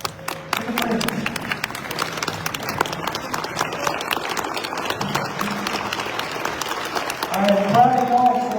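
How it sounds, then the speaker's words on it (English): An audience at a chamber agriculture appreciation lunch gives sustained applause for the Freeman family, named Farmer and Rancher of the Year, with dense steady claps, occasional cheers and voices talking over it near the end. "Everyone stand up and clap to the Freemans."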